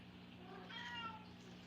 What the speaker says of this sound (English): she starts meowing at me